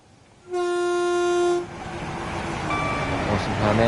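A train in Train Sim World 2 sounds a loud, clear horn blast of about a second. Rising rumbling rail noise follows as it passes through the station, with a voice over the top.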